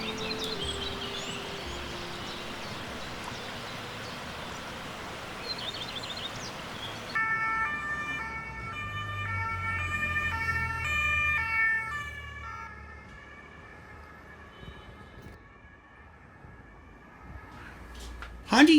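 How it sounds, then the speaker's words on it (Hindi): Police and ambulance sirens wail through the streets of Paris, a rising and falling tone heard at moderate distance over steady city traffic and crowd noise, with occasional voices nearby. "ये जो पुलिस के सायरन्स और एम्बुलेंस के सायरन पूरे पेरिस में आपको सुनाई देंगे"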